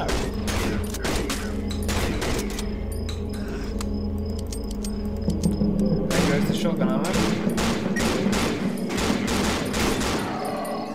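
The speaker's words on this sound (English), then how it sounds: "I can just see you shooting at something" Rapid, dense gunfire rattles through the horror game Cry of Fear, sustained bursts of shots with mechanical clatter, loud and close, continuing almost without pause under occasional voices.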